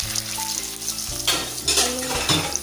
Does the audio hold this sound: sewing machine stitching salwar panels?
no